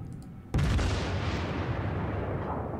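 A heavy explosion bursts suddenly close by in a World of Warships naval battle, then a loud rolling rumble of gunfire and blasts carries on around the warship.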